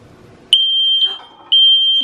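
A smoke alarm in an apartment kitchen, set off by burning potatoes, sounds loud, piercing high beeps close by, with long tones separated by a short gap.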